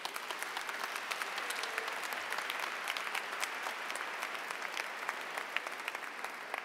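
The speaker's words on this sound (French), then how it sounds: "Applaudissons pour eux." Steady applause from a church congregation at a Sunday Mass, filling the space evenly and continuing throughout without a break.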